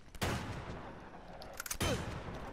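A gun in Uncharted 2: Among Thieves fires in two sharp, close bursts about a second and a half apart, each followed by a short ringing tail in a quiet game soundscape.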